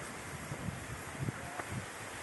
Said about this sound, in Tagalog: ayan, lakas pa ng hangin